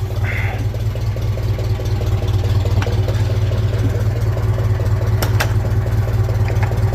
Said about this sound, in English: Gotta move the 504 to get the Honda in.